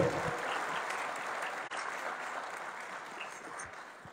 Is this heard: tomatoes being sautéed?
no